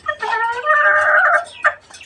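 A caged hen gives one drawn-out, wavering squawk close by, followed by a short cluck, with no other sounds around it.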